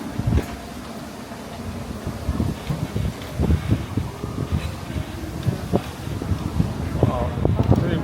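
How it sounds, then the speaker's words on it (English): Gusty wind buffets the microphone in uneven rushes and thumps at Pompano Beach, with rustling noise throughout and a bit of talk mixed in. "Wow, pretty windy today."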